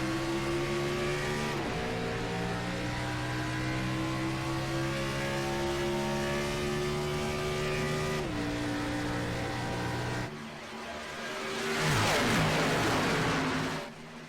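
Several race cars roar together on a restart at Chicagoland Speedway in a stock-car racing video game, engines droning steadily and shifting pitch, then surging louder as they accelerate into the turn.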